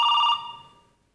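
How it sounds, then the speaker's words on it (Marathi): A telephone bell rings in a short electronic burst that cuts off and decays away, close and clear, with no talking over it. "फोन वाजतोय."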